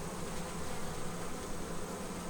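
Honey bees hum around an open hive while a queen is being installed, a soft, steady buzzing that carries on evenly with no voices.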